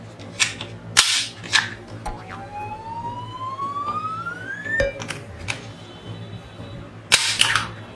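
A plastic toy gun fires several sharp cracks, a cluster early on and a pair near the end, while a rising electronic siren-like tone whistles between the shots; close and fairly loud, with no talking.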